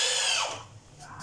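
A power drill whirs loudly and briefly while driving screws into furniture hardware during assembly of an industrial-style collar-clamp cabinet, its pitch sliding down as it slows.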